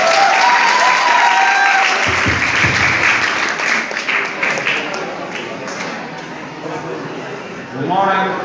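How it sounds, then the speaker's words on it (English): A school audience claps loudly and steadily for a class 12 student declamation speaker at a 12 August 2022 event. Occasional voices and sharper tones sound over the clapping, which dips midway and swells again at the end. "Please give a huge round of applause."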